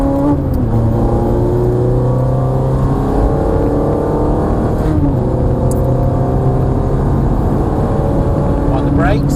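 A Ferrari engine revs hard on a race track, pitch climbing through the gears in repeated rising sweeps with gear changes between, loud and close throughout.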